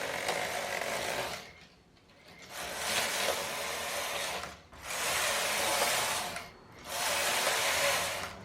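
A knitting machine carriage runs back and forth knitting a fitted top, making four long, even whirring, rattling passes with brief quiet pauses between strokes, close and fairly soft.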